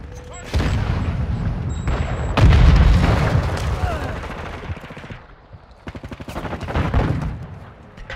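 Bursts of automatic gunfire and booming blasts in a Call of Duty Modern Warfare 2 multiplayer hardpoint match, loud and close, with a heavy explosion early on and stuttering rapid rifle fire later, while game voices call out over it.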